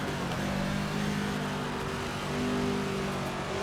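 A 1967 racing car in a driving game at the South African Grand Prix brakes hard from high speed and downshifts to third gear, its engine droning steadily and close with a faint whir throughout.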